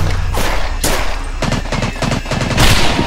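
Loud gunfire in a World War II-style shooter game, with dense repeated shots and broadband bursts crackling over several seconds, close and continuous, without speech.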